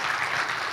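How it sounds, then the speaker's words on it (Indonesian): Audience of gentlemen at a Tribun Academy event with the Indonesian army, giving a brief, dense burst of applause that sounds steady and fairly loud. "Boleh minta tepuk tangan nih Bapak sekalian?"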